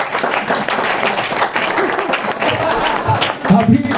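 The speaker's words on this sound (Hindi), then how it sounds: "पास, तालियां बजाओ।" An audience claps in a rough, uneven burst of applause mixed with crowd noise, while a voice talks over it throughout.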